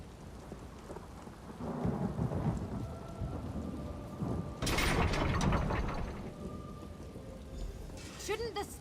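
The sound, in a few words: thunderstorm with rain in video game Elder Scrolls Online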